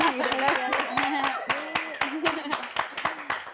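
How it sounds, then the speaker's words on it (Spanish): An audience at a dance performance claps in a steady burst of applause while a voice speaks over it. "Les damos un aplauso y las recibimos."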